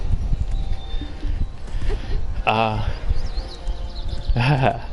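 Wild horses in a video game clip-clop with hooves, joined by two short whinny-like calls, all over a busy game background.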